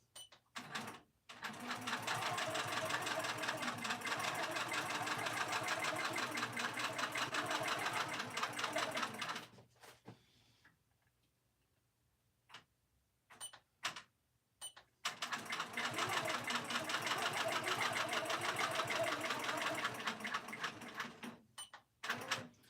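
Sewing machine stitching a quilted pin keep piece on Lugana 25 count cross stitch fabric, running in two long steady bursts of rapid mechanical chatter separated by a pause with a few clicks and handling sounds.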